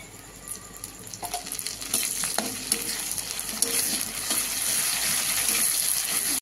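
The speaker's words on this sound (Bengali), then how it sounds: "পেঁয়াজ কুচিটা একটু ভাজা ভাজা হোক আগে। দিয়ে দিচ্ছি 1 চামচ আদা বাটা।" Chopped onions and ginger paste fry in hot oil for a pumpkin, potato and prawn curry. A steady, close sizzle grows louder, broken by occasional scrapes of a stirring spoon.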